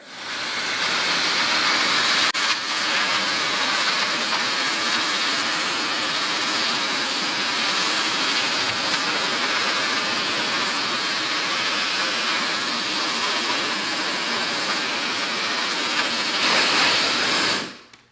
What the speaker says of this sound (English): then I'm gonna dry my hair